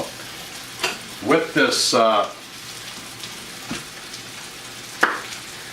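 Shrimp and salmon sauté in a pan of olive oil and butter, with a soft crackling sizzle and a few stirring clinks under a voice.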